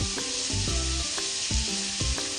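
Vegetable cutlet mixture sizzles steadily in a frying pan as spices are added, with a loud constant hiss and several soft rhythmic scraping stirs, close up and with no voices.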